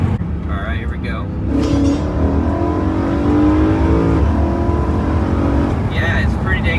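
A modified BMW M3 V8 with an X-pipe and stock muffler revs, its exhaust rising into a sustained loud drone, then dropping back, with a voice talking over it at the start and end.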